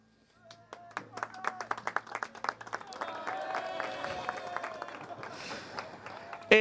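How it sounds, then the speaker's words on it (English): Scattered clapping builds into steady applause from a crowd at a motor racing awards ceremony, with a low hum early on and noise fading toward the end. "Please give a big round of applause for High-Tech TGR."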